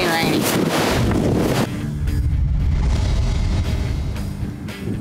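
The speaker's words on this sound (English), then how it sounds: "just really windy and rainy." Strong wind buffets the microphone with loud, steady roaring gusts, rain and rough weather filling the background without any clear voices.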